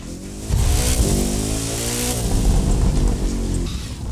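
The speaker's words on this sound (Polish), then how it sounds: "Dobra, drifting się udał." A Koenigsegg Jesko in The Crew 2 drifts through winding hairpin bends, its engine roaring loudly and steadily with rising and falling revs while the tyres slide, with no voices present.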